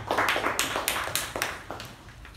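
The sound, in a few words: audience applause at a Toastmasters meeting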